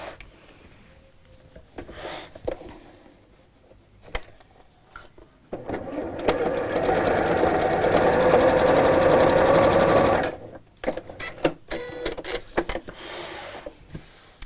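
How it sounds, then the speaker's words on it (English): A sewing machine stitches piping cord into a cushion cover in one continuous run of about five seconds, close and steady. Quieter handling clicks and rustles come before and after it. "I'm just going to go over that again and sew a little bit closer to the cord"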